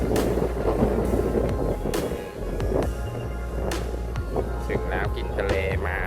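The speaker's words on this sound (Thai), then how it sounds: "โอ้ลมเย็นมาก" Sea wind buffets the microphone at a beachside resort in Hua Hin, a steady low rumble and roar with a faint hum underneath, continuous throughout with brief gusts.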